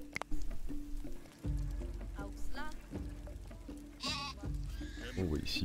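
Sheep in the video game Dawn of Man bleat several times over game ambience, the wavering calls mixed with someone talking throughout.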